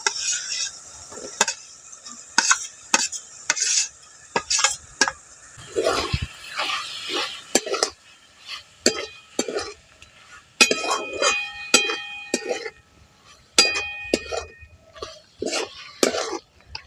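Spiced mushrooms stir-fry in hot oil in a pan, the spatula scraping and clinking against the metal in quick, irregular strokes over a soft background sizzle.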